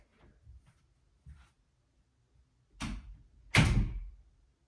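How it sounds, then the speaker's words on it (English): An indoor door swings shut as someone leaves the room, heard as two close, firm thuds near the end after a few faint soft knocks and shuffles, no talking. "You're going to hear the door shut when I leave the room"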